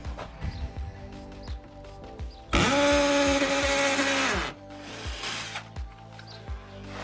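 A power drill bores screw holes into plastic cladding inside a van conversion; one loud, steady whine lasts about two seconds between quieter handling knocks and rustles.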